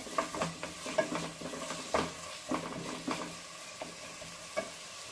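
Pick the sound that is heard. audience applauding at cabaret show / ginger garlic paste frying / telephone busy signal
ginger garlic paste frying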